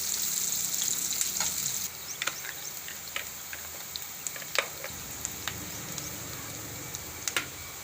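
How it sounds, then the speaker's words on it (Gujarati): Onions fry in oil over a gas stove turned low, a soft continuous sizzle that drops quieter partway through, dotted with small sharp pops and crackles. "ડુંગળીને આપણે ઘડીક વાર તેલમાં સડવા દઈશું"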